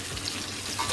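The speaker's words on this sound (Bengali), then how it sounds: "আলুগুলো ভাজা হচ্ছে" Potatoes fry for an egg curry, giving a soft, continuous sizzle in the pan that stays fairly quiet and close, with faint stirring under it.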